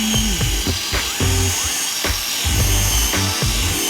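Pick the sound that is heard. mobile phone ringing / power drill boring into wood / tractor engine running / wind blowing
power drill boring into wood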